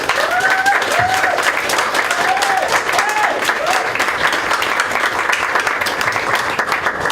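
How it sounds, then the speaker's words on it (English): An audience gives a round of applause after a Pint of Science talk, dense sustained clapping throughout, with a few whoops and cheers rising over it early on. "I think another round of applause."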